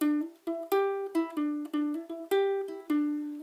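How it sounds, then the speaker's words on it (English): A short fingerpicked ukulele riff, single plucked notes in a bouncy, steady rhythm, close and clear with no voices. "a little fingerstyle ukulele riff that he does"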